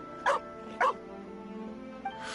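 Two sharp dog barks from a video game, spaced about half a second apart and fairly close, followed by a short faint yip, all over a steady background of game music with no talking.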